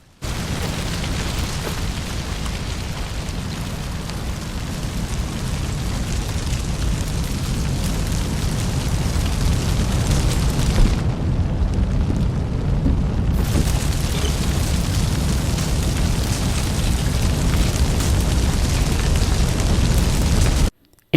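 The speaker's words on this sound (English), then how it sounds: "look at Arthur walking away from the explosion like he's an 80s action hero" A massive explosion in Red Dead Redemption roars on as a continuous loud, dense rumble of blast and fire for about twenty seconds, briefly dulling midway before swelling back, with no talking over it.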